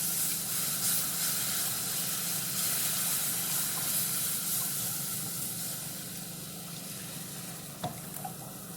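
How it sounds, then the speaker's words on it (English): Evaporated milk poured slowly into a hot pot of smoked Gouda mac and cheese, giving a steady loud sizzling hiss that eases a little near the end, with a faint clink. "we're going to go ahead and add our evaporated milk. Just go slow."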